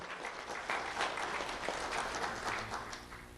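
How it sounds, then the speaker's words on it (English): Steady applause from an audience at a school award ceremony held with a sheriff's office, dense continuous clapping that fills the room for a few seconds, with faint voices mixed in. "Let's have a round of applause for Trenton Mitchell."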